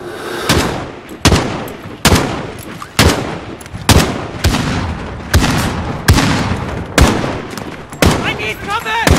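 Gunfire in the Modern Warfare video game campaign: loud, close bursts of rifle shots repeat about every second in a steady stream of cracks and booms, with voices talking between the shots.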